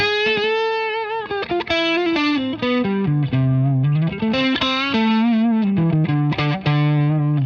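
An electric guitar plays a sustained, singing melodic lead through the overdriven channel of a Carvin X100B amplifier, loud and continuous, with smooth note changes and thick distortion.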